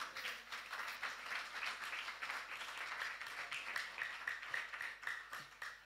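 A church congregation applauds together during a sermon, a steady wash of many hands clapping that holds fairly even throughout, moderately distant and without speech.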